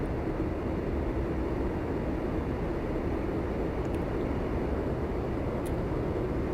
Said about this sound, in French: Voilà, nous avons décollé.